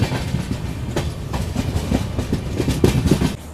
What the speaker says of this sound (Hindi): यहाँ पर अपनी ट्रेन को लूप लाइन पर लगा दिया है